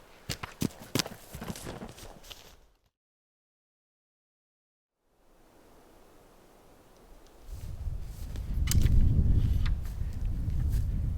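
A horse walks nearby outdoors with rapid clip-clop hoofbeats, then a break of silence, then rustling and heavier low rumbling movement, with no talking.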